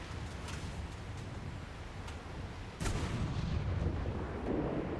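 Naval guns on a warship in War Thunder fire high explosive shells, a deep booming roar with one heavy report partway through, loud and rumbling over continuous engine and sea noise.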